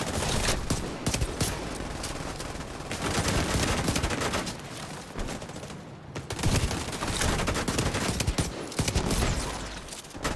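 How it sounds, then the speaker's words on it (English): Dense, loud gunfire in the shooter game The Division 2: sustained automatic bursts and overlapping shots roll on almost without pause, with a brief lull near the middle. "I'm getting shot in the back."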